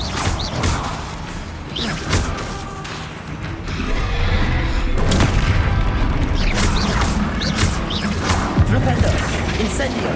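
Booming spell blasts from Bombarda being cast in Hogwarts Legacy, with heavy thuds and crashing impacts over dense game music, repeated bursts through a loud, continuous battle mix.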